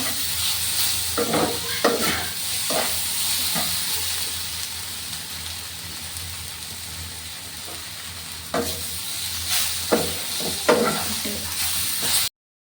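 Sugar, ghee, vermicelli and grated coconut are stirred together in a hot pan, giving a continuous soft sizzle broken by scraping strokes of the spoon that bunch together near the start and again toward the end, with no talking.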